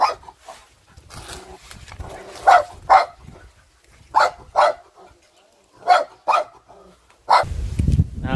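A dog barks in short bursts, loud and close by, in a rural home setting, with gaps of quiet between the barks and a brief rumble near the end.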